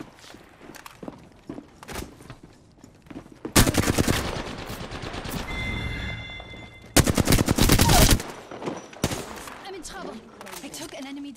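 Apex Legends firefight with two long, loud bursts of rapid automatic gunfire separated by scattered single shots and footsteps, while a player talks intermittently between the volleys.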